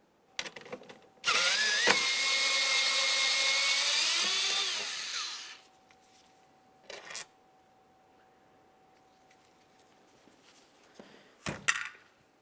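A power tool spins out an 8mm bolt holding the computer bracket on a 2003-2011 Mercury Grand Marquis, giving a loud, close, whirring burst of several seconds, then a fading whine and scattered clinks and knocks of metal parts.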